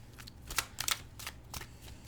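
Tarot cards are shuffled close up, a series of quick papery riffles and flicks, quiet and with no voices.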